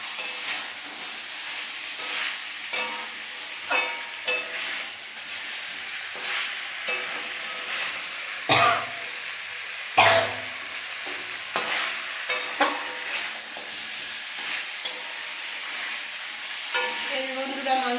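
Meat sizzles in hot oil in a pan while it is stirred, with a steady frying hiss broken by scraping strokes and clanks from the spoon, close and moderately loud.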